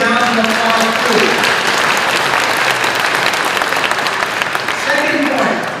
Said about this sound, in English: So please give him a big round of applause too.